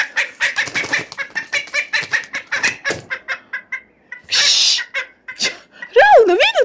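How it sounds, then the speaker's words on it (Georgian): A chicken clucks in a quick run of short, close calls, with a brief burst of noise in the middle and a person speaking near the end. "აი ქათამი არის"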